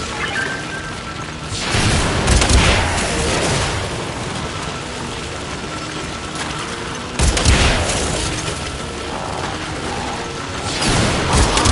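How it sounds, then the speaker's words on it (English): An excavator in the Warframe video game runs with loud mechanical grinding and ratcheting, surging in heavy bursts and settling into a continuous churning drone, with no speech. "Excavator is ready to go. Keep it powered and protected from enemy fire."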